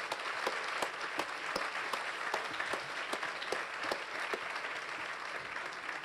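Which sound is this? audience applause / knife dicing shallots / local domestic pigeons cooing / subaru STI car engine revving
audience applause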